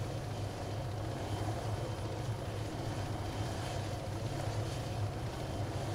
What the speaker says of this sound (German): Die Heli ist so dermaßen laut,